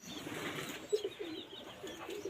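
Pigeons in a breeding cage give soft, low coos and brief bursts of wing flapping, quiet and close against a faint background hiss.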